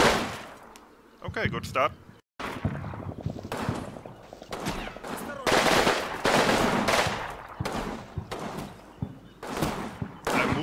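Bursts of PPSh submachine gun fire mix with other gunshots in the Combat Mission: Fire and Rubble war game, sharp cracks and rattling volleys at varying distances, with someone talking briefly over the battle.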